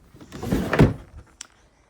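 An underwear drawer is pulled open or pushed shut during a tidy-up, with a short rumbling slide ending in a soft thunk and a small click, close by.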